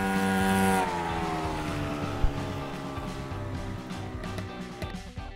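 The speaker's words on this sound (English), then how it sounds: "Motor scooter." A motor scooter engine drones close and fairly quietly, its buzzing pitch sliding slowly downward as it runs alone for several seconds.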